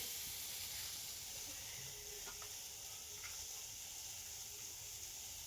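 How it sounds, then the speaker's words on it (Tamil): Food roasts in mustard oil in a pan, giving a steady close sizzle and hiss with a few faint clinks of stirring throughout. "இதை வறுத்து காமிக்கிறேன்"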